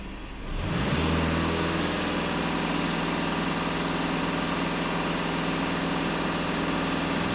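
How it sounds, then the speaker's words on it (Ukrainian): A VW Passat B8 with a 2.0 TDI diesel engine revs hard at full throttle, rising quickly from a quiet idle into a loud, sustained, steady roar with no talk. "Але даємо газ в пол."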